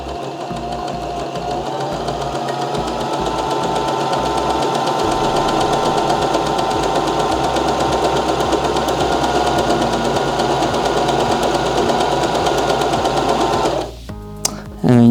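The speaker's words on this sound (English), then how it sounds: "What that's gonna do is it's gonna now start stitching back to the top." A Baby Lock Zest home sewing machine runs steadily for over ten seconds with a loud, even, rapid mechanical whir and needle chatter, close by, then stops near the end.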